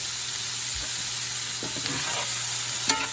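Ribeye steaks sizzling in a pan for steak pizzaiola, a steady close frying hiss with a few soft stirring clicks and one sharp knock near the end.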